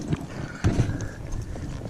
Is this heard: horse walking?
yes